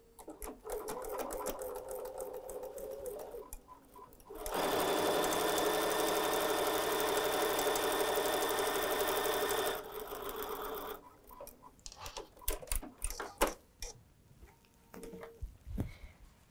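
A sewing machine stitches fabric along a marked line while making a pin cushion. It runs in a steady loud burst of about five seconds, with quieter stitching before it and handling clatter after.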